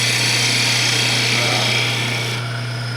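A chisel cuts a wooden handle spinning on a lathe, giving a continuous close scraping hiss over the lathe's steady low motor hum, easing slightly toward the end.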